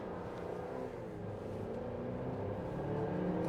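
A 2024 Chevrolet Traverse RS with a turbocharged four-cylinder pulls away from a stop. The engine tone is muffled and steady from the cabin and builds slightly toward the end.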